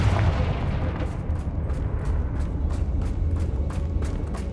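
A Confringo fire spell in Hogwarts Legacy bursts into a rapid series of loud booming explosions, about a dozen evenly spaced blasts over a rumbling background, with no talk.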